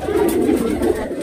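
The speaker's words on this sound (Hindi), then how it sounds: "ये कबूतर भी देखो" A pigeon coos close by, a low rolling throaty call sustained through the moment.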